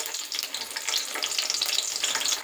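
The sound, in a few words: chopped onions frying in oil for chicken curry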